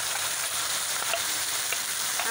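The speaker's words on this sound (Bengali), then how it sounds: "এবার মশলাটা ভেজে নেব" Ground ginger, garlic and onion paste with coriander, cumin and turmeric powders frying in oil, a continuous dense sizzle with faint stirring ticks, close and alone.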